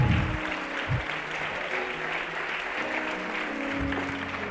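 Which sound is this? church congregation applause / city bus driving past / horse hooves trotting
church congregation applause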